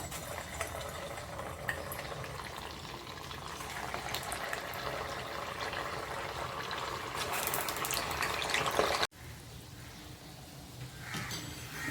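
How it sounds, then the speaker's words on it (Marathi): Continuous bubbling and sizzling of rava (semolina) vadas frying in hot oil in a kadhai, growing louder, then briefly cut off before the sizzle carries on more quietly. "आता एक एक मेंदूवडा आपण त्यात सोडूया"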